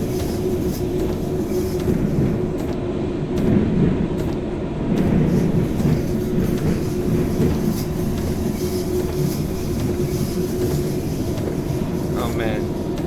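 Glasgow Subway 1980 Stock train running in a train simulator game, a steady low rumble with rhythmic clicks of wheels on rail and brief squeals, under someone talking throughout.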